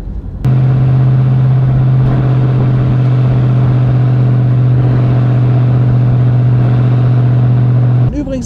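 A 1935 Horch 850 Sport being driven, giving a loud, steady low engine drone with a strong constant hum and road noise, running evenly for most of the stretch.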